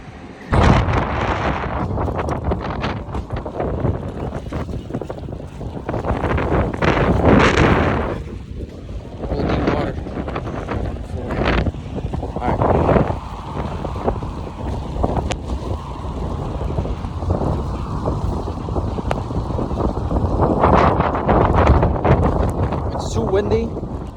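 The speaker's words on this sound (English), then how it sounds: "This is how you know it's really windy." Strong outdoor wind batters the microphone in loud, rumbling gusts that swell and ease over about twenty seconds, with a person talking intermittently.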